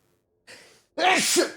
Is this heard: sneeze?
yes